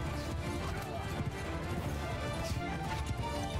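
Horse riders charge across a Mount & Blade II: Bannerlord battlefield, a steady clatter of hooves running through a dense, loud game mix of battle noise, with a voice talking over it.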